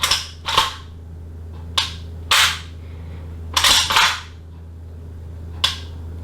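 Tokyo Marui AKM gas blowback airsoft rifle trigger being pulled and reset, about seven sharp, loud, close clicks and snaps at irregular intervals over a low steady hum, no talk.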